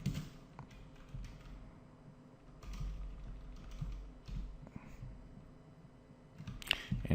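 Keys clatter on a computer keyboard in quiet, irregular bursts of tapping, close but faint, with some soft clicks and low background noise between runs.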